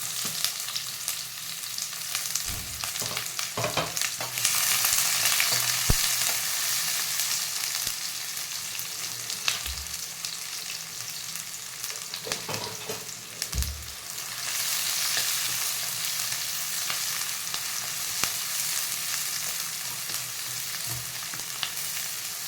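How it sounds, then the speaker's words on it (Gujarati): Cumin seeds and onions fry in hot oil for vegetable pulao, a steady broadband sizzle running throughout with occasional utensil knocks and stirring scrapes, fairly close and moderately loud, no voices. "જીરું તતડે એટલે ડુંગળી એડ કરી દઈશું"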